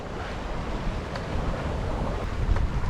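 Wind rushing over a sailboat running downwind offshore in a 10 to 15 knot northeasterly between the Isles of Scilly and the Azores, a steady faint roar with microphone buffeting and no pause.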